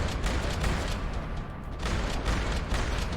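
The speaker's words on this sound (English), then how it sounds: "Another parking lot rattling with gunfire." Dense, continuous rattling gunfire in Max Payne 3 in a parking lot, rapid shots overlapping into a constant loud barrage with a brief lull midway.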